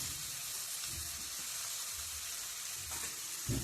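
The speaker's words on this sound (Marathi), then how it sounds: "ह्या संपूर्ण वांग्याच्या फोडी आता आपल्याला या फोडणीमध्ये टाकून घ्यायच्या आहेत" Eggplant pieces for sole vangyachi bhaji hit hot spiced tempering oil and crackle in a steady, close sizzle, with a soft stirring scrape and a dull knock at the end.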